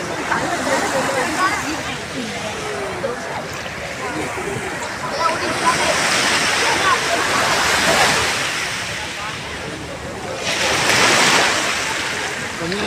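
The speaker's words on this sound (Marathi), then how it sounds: "बघू शकता लाटा कशा समुद्रात" Surf from the sea breaks on a sandy Mumbai beach in a broad, rushing wash that rises in two louder surges, with voices and crowd chatter mixed in over it.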